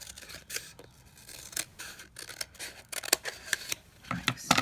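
Scissors snip through a juice carton in quick, close, crisp cuts, irregular and fairly faint, with no speech.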